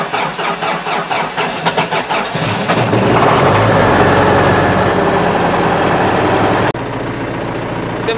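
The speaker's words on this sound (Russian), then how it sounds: "Запуск трактора." An MTZ-82 tractor engine cranks over with a rapid rhythmic starter churn, catches and fires up into a loud, steady diesel run in winter weather around plus one degree, close by and without talk.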